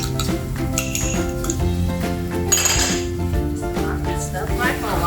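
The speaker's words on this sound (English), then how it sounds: "Stir fry for a while before we add in the tomato ketchup." Rempah, tauco fermented bean paste and raw sugar being stir-fried in a pan for chilli crab, with repeated metallic clinks and scrapes of a utensil against the pan over a soft sizzle, continuous and close.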